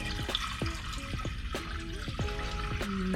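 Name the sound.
water pouring into a pot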